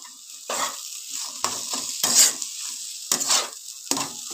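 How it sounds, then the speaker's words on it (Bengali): Chopped coriander being stirred into cauliflower in a pan, with several separate scraping stirs over a soft sizzle, close and fairly loud. "এবার আমি ভালো করে ধনেপাতা কুচিটা দিয়ে ভালো করে নাড়াচাড়া করে নেব"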